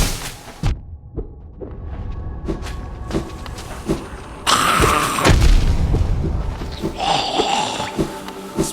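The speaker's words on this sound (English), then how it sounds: "Just be careful of the exploding guys." Exploding enemies in the game Hollow Knight give off loud booming bursts amid thumps and game effects, with a bright sustained blast in the middle and another burst near the end.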